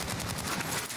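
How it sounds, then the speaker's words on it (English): Dense, continuous gunfire fills a Warzone battle royale match, a rapid fusillade of overlapping shots at steady loudness with no talking. "Where are they shooting us from?"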